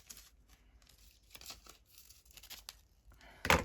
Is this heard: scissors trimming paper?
yes